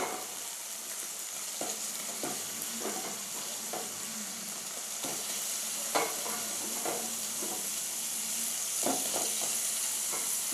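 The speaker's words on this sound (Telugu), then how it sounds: "ములక్కాయ ముక్కలు వేసుకుందాం ఇప్పుడు." Drumstick pieces frying in a tomato curry, with a continuous faint sizzle and scattered light clicks and scrapes from stirring in the pan.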